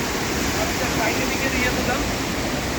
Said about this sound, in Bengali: এখানে সুইচ গেট আছে পানির শব্দ